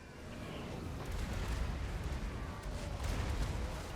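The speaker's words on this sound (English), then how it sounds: "More big explosions there." Mortar explosions boom in a Total War: Warhammer 2 Mortal Empires battle fought by the Empire faction, a dense, continuous rumble of blasts and crackling debris that stays loud throughout with no talking over it.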